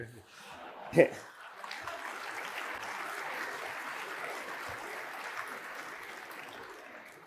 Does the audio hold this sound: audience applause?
yes